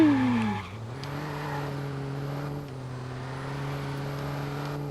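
A car drives in the open-world video game Watch Dogs, its engine holding a steady, fairly loud drone after an early downward shift in pitch, with no talking.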